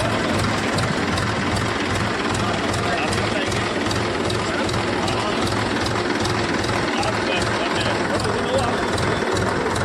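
A tractor engine runs steadily and loud for the whole stretch, a low rumbling drone as it carries a minister through waterlogged Sujangarh streets, with crowd noise mixed in.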